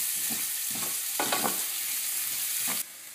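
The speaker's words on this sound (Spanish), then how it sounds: "en la misma cacerola con el aceite que nos ha sobrado, lo que vamos a hacer es pochar la cebolla." Onion sweating gently in leftover oil in a casserole, a steady soft sizzle throughout with several brief stirring scrapes, then the sizzle drops abruptly near the end.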